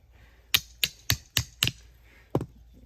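A knife chopping through a greenbrier root on a cutting board: five sharp, evenly spaced knocks in quick succession, then a pause and a sixth chop, close and crisp with no talk.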